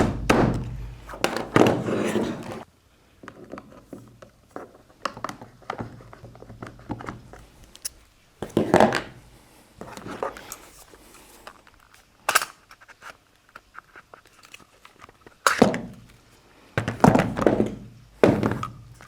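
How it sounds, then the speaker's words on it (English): A takedown pin being punched out of an SSR9 gun to separate upper from lower, several sharp close thunks and taps in scattered clusters with quiet gaps and a few louder knocks. "we just punch out that pin"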